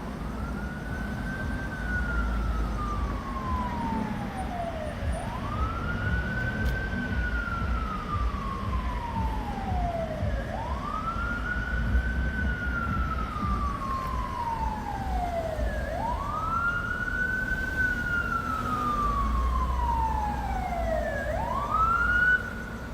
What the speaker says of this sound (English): I can hear the ambulance. They're on their way.